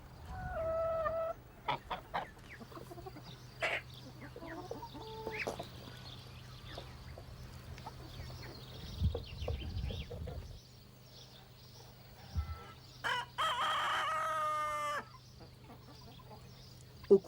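Hens and a rooster on a farm cluck and squawk in scattered bursts against a low steady hum, with the rooster crowing loudly near the end.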